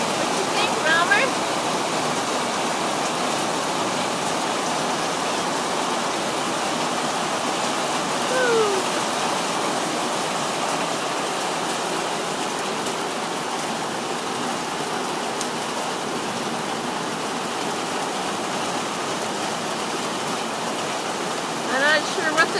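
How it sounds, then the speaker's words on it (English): Heavy rain mixed with hail pours steadily during a severe North Texas thunderstorm, a dense continuous hiss and patter with a few louder knocks near the start and end. "I'm not sure what the size of the hail is, but sounds probably like a dime size maybe."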